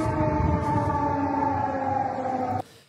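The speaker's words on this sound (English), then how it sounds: "Air sirens are in operation." Air raid sirens wail steadily over a Polish city near the Ukrainian border, a loud sustained drone that holds for a few seconds and then cuts off abruptly.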